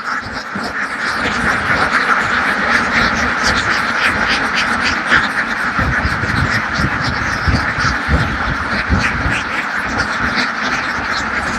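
Many ducks quack continuously in a noisy, crowded chorus on a duck farm, close and overlapping, with harsher calls mixed in.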